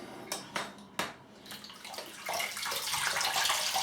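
Water splashed onto a face at a sink before a shave: a few separate close splashes and drips at first, then a steadier running-water rush building near the end.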